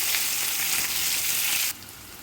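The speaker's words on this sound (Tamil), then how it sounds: "கட் பண்ண வெங்காயத்தை நல்லா சேர்த்துட்டு வதக்கிக்கலாம்" Chopped onion sautéing in a pan for a marrow sambar makes a loud, dense, close sizzle that holds steady, then drops sharply to a quieter hiss near the end.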